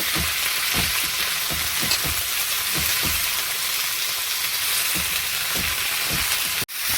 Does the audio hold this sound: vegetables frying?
yes